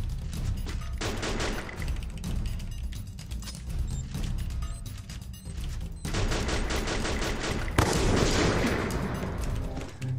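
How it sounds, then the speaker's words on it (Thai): Sustained M60 machine gun fire in the Free Fire shooter game, a dense stream of shots running throughout with a sharper burst near the end, loud and close with no talk. "M60 ตัวนี้ผมว่าไม่น่าเล่นนะครับเพราะว่ามันยิงช้ามากเลย"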